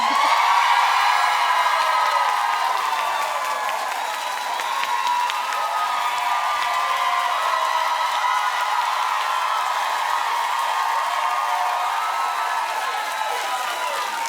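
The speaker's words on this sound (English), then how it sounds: "they can keep clapping if they want to" A studio audience at a talk show claps and cheers continuously, a steady wash of applause with whoops and shouts that holds at an even level throughout.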